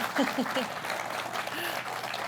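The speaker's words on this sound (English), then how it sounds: "I can't clap. You need to do that for us." Audience applause at a farm tractor launch event for guests called to the stage, moderate and continuous clapping in a large room, with someone speaking over it and a brief whoop.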